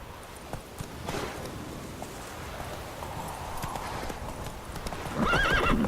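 A horse in The Witcher 3 clops along at speed and then lets out a loud whinny near the end, close and clear over a soft game ambience.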